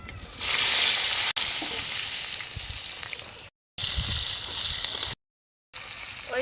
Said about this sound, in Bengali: আমি বেগুনগুলো ভাজা করে নেবো